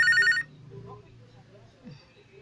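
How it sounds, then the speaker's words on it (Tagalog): A telephone-shaped high heel sandal gives a brief electronic ring like a landline for about half a second, followed by quiet room sound and faint murmuring voices. "Mauni yung tingog, nagkiring akong gidayal sa akong landline plus, Ma'am Connie."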